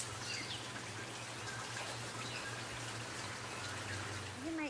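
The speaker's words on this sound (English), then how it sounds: "the rain is no longer torrential. It's just kind of a steady little drizzle" Steady light drizzle falls outdoors in sunlight, a soft, even patter of small drops under a faint low hum, with no talking.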